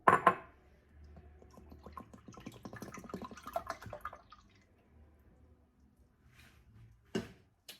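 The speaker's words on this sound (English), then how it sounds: "now we're going to add warm water" Warm water is poured into a bowl while making slime, giving a soft, quiet trickle and splash that fades out, followed by a few faint drips and small clinks.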